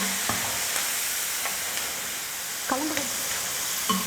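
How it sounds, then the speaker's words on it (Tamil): Very thinly sliced potatoes cooking in hot oil for a snack, giving a soft, even hiss with a few faint spoon taps and clinks. "நம்ம ரொம்ப மெல்லிசாக கட் பண்ணி போட்டிருக்கிறதுனால சீக்கிரமாகவும் வெந்துடும் உருளைக்கிழங்கு."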